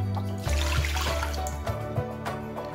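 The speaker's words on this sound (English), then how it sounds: "we're going to be adding in 1 cup of water first" A cup of water is poured into a pizza dough mixture, giving a splashing, gurgling stream close by for a couple of seconds.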